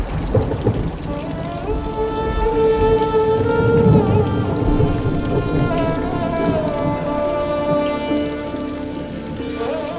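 Heavy rain pours steadily with rumbling thunder in a stormy night scene, a dense continuous wash under sustained music with no talking.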